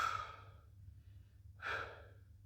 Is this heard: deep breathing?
yes